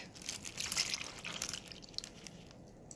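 Sugar pours into a plastic bag for homemade ice cream, a soft granular hiss with light crinkling and patter that runs steadily for three seconds, faint and close, without speech.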